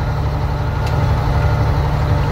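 Old dump truck diesel engine running during corn chopping, a loud steady low rumble with a constant droning tone throughout the short stretch.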